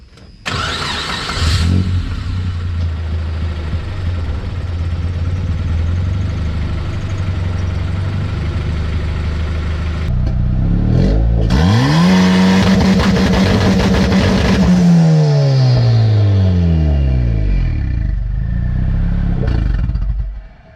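A tuned Honda engine with a dump pipe fires up and idles roughly, then revs hard up and down with sharp anti-lag popping bangs from the exhaust, loud and close.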